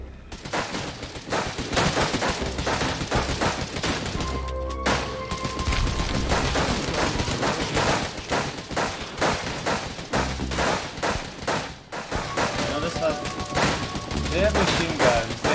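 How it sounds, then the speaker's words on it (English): Chaotic gunfire in the Zombie Night Terror video game mixes machine-gun bursts, pistol shots and shotgun blasts into a dense, nearly continuous fusillade, loud throughout, with a few short pauses and faint talk beneath. "They have machine guns, they have pistols, that guy has a shotgun"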